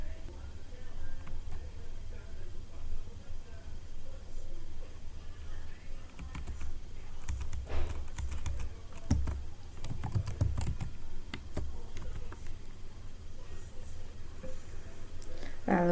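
Commands are typed on a computer keyboard for router setup, a run of faint, scattered key clicks beneath steady talk, with a couple of firmer taps near the middle.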